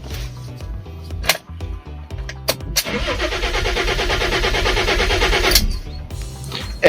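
A Fiat Stilo Abarth's starter cranks the engine in a loud, rhythmic churn lasting a few seconds without the engine catching, preceded by a few sharp clicks and clunks close by.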